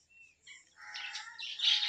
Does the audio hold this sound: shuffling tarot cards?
no